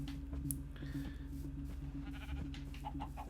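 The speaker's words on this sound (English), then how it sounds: "We'll keep the sheep around in case we ever want to make a bed" Sheep bleating in Minecraft, faint and low in level, a few short bleats over a steady humming background tone.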